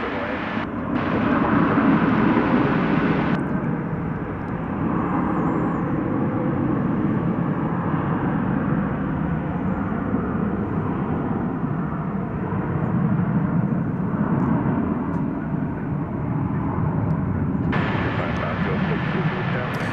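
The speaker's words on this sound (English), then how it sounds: "There's flight 1644. It is going to Los Angeles. An Airbus A321." Airbus A321 jet on flight 1644 to Los Angeles at DFW at night, a broad steady engine roar that holds loud and continuous for about twenty seconds with no pause.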